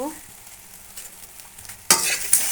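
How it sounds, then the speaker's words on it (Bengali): Okra with a little salt is stirred in a frying pan: a quiet low sizzle gives way to a sudden louder burst of scraping and frying near the end, close up with no talking. "আবারও নেড়ে নেব"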